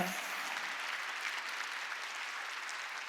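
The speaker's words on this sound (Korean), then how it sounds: "박수치라." Congregation clapping during a Sunday church service, a steady, even wash of hands throughout, fairly distant and moderate in level.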